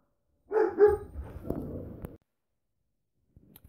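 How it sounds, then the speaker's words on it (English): A pet dog barks several times close by indoors, a short burst of loud yips and woofs that stops abruptly, then near silence with a few faint thumps. "Just had a little cameo from my dog there, barking."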